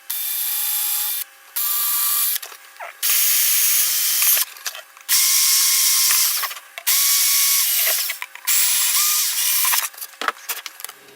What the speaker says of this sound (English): So we need to make a little bit bigger holes for it to sit. Take this rather small drill.